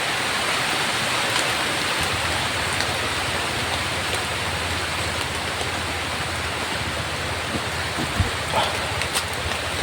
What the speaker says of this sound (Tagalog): ito yung lakas ng ulan, tol.